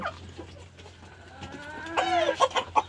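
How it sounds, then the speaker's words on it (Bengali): Native country chickens cluck close by while they feed, starting soft and growing into several louder, rhythmic clucks near the end, with no talking. "দেখেন, মুরগিগুলো খাবার খাচ্ছে।"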